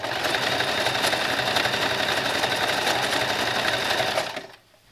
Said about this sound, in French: faites des petits tests à la machine à coudre